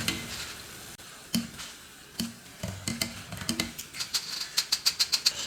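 Kara boondi batter drops frying in hot oil, a soft crackling sizzle with scattered sharp pops that grow quicker and more regular toward the end, close and fairly quiet with no talk.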